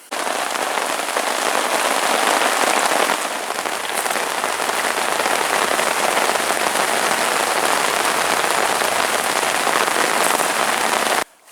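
Heavy rain pours steadily onto a surface, a dense, constant hiss with no voices.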